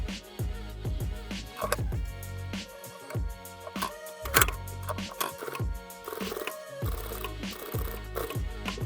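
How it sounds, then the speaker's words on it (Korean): A sewing machine topstitches the piped collar edge of a women's pajama set, pressing the seam allowance down. Uneven bursts of needle clatter and ticking follow one another, with short pauses and taps between them. "파이핑 안쪽으로 이 테두리 한번 상층 박음질 해서 시접 눌러 박아줍니다"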